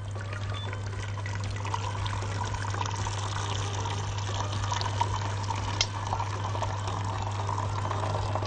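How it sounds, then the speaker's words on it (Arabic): Boiling water being poured into a cooking pot on the stove to blanch cauliflower, a steady continuous splashing pour with no talk, alongside a constant low hum. "وفي الحلة دي هبدأ أحط مية مغلية"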